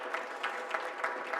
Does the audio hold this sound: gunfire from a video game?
no